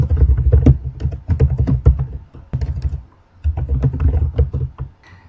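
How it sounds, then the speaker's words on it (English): Rapid bursts of typing on a computer keyboard, close and clear, with dense clusters of key clicks broken by a short pause near the middle before resuming. "You just type the information in that you want to have in your signature."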